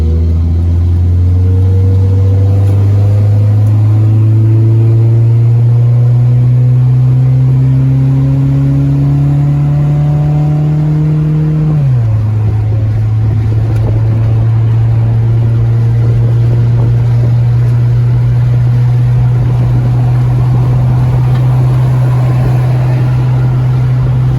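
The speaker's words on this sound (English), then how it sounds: "now we're taking it on the freeway" A car engine under load on a freeway test drive after an upper control arm install, a loud continuous drone rising in pitch through the gears, then dropping and holding steady at cruising speed.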